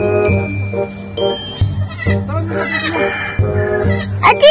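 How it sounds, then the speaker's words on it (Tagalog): Goats bleat repeatedly and close by, several wavering, nasal cries overlapping one another, with people talking in between on a farm. "Ayan po yung kambing guys."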